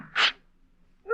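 A single loud sneeze from an actor in an old-time radio drama, one sharp burst near the mic, followed by silence and then the start of a voice.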